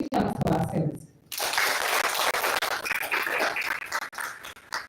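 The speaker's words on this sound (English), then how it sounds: "can we clap for ourselves?" Participants in a mental health first aid training session at YMCA Kisumu clapping for themselves, a loud, steady burst of group applause that follows a short stretch of talking and carries on to the end.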